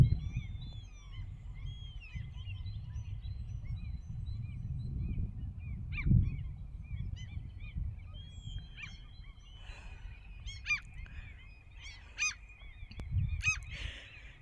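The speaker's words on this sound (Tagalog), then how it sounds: "naririnig nyo yung honin ng ibon" Spring birdsong by a still-frozen lake at Kermajärvi, Heinävesi, Finland: repeated chirps and calls, some close and sharp, over a steady low background rumble, with a few louder honk-like bursts near the end.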